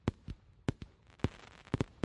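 Fireworks burst above a city in a quick run of about eight sharp, loud cracks and booms at an uneven rhythm, with no talk over them.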